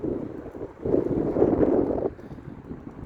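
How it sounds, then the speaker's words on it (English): Wind gusts buffet the microphone outdoors, a low rumbling roar that swells for about a second before easing back to a steady blustery background. "That wind."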